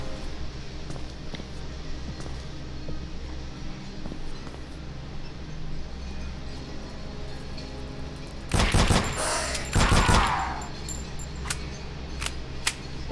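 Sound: gunfire from a gun in the video game Antarctica 88

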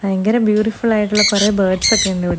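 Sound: birds squawking in an aviary

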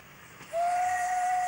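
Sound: Australian steam locomotive hauling brake van train

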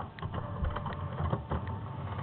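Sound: printer printing

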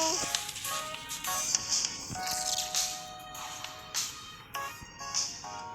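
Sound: phone ringing with no answer

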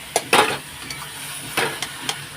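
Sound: chicken pieces frying in a pan (kosha)

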